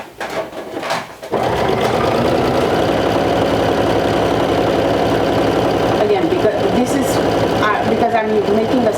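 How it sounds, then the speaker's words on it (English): A sewing machine running a long continuous line of top stitching on a vintage-style jumper, starting after a brief pause and humming steadily at close range to the end. "I will do 2 lines of top stitching"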